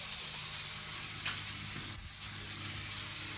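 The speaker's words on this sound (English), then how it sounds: "you want to put the tomahawk on top of the mushrooms" Tomahawk steak resting on mushrooms sizzles steadily in a pan, a soft, continuous hiss with faint crackles and a brief scrape or shift midway, no voices.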